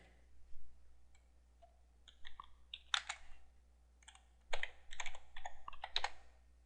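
Quiet, close keystrokes on a computer keyboard come in short irregular bursts of clicks with pauses between them.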